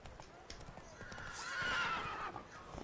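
In The Witcher 3, the horse Roach gives a quick whinny over soft clip-clopping hooves, the neigh rising and fading within a few seconds at a fairly low level.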